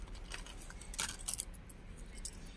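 Crinkling and rustling of a plastic package as a fishing lure bought from AliExpress is unwrapped, with a few brief bursts of handling noise close by and no talking.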